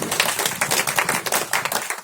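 Audience clapping at a Hindi religious talk on yoga and devotion, a steady patter of many hands over two seconds with uneven bursts, fairly close and with no talk over it.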